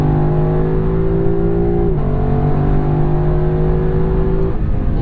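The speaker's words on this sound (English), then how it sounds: "The sound of this normally aspirated V8 5-liter quad cam is just glorious." A 2018 Lexus LC 500 with a naturally aspirated 5-liter quad-cam V8 pulls hard and close, its rising drone broken by one quick upshift before it climbs again.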